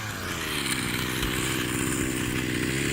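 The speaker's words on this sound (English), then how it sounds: "it sounds like it's revving up quite nice with this exhaust as well" A Rovan Baja 45cc RC car engine, ported and rebuilt with a new exhaust, revs hard in a loud, steady, buzzing drone that holds near and unbroken throughout.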